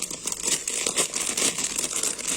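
Bridal copper comb jewellery comes out of its packaging with close, crisp crinkling and rustling of wrap in quick irregular bursts, and no talking.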